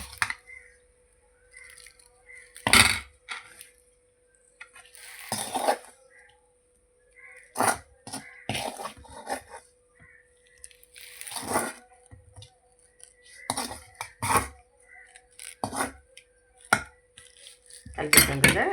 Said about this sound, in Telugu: ఇప్పుడు దీంట్లో ఈ వేయించుకున్న వంకాయలు దీంట్లో కలిపేద్దాము